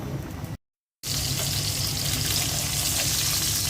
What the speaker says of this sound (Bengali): মাছটা ভাজা হয়ে গেছে, পানি দিয়ে দিচ্ছি